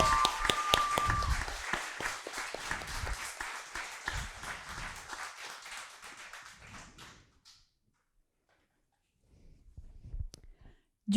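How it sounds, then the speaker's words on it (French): A theatre audience at an eloquence evening applauds loudly and steadily for a performer, a dense wash of claps that gradually thins and fades out, followed by near silence. "je pense qu'on va pouvoir l'applaudir bien fort"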